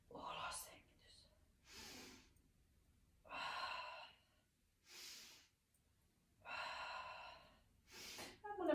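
Paced breathing during a short energizing morning exercise routine, a few soft, airy inhales and exhales alternating in slow rhythm, close and quiet, with pauses between breaths and no talk.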